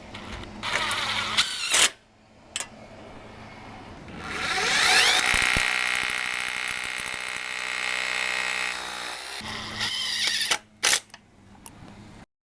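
A power drill drives screws to mount an outdoor motorized screen track, a whirring buzz that builds and runs for several seconds, framed by short sharp clicks and knocks before and after.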